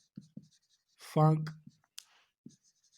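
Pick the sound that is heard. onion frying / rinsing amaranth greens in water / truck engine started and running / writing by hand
writing by hand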